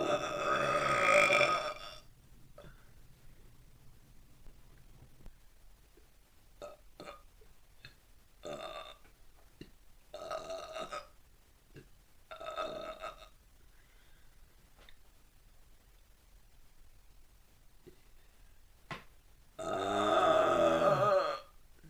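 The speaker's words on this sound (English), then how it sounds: "Oh my God, a burp is coming." Several burps come one after another, loud ones at the start and end with fainter grunting belches in between, separated by quiet pauses.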